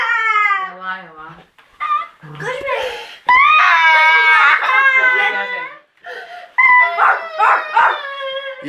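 A dog howls and whines in long, wavering cries, close and loud, while children laugh and speak around it and between the howls.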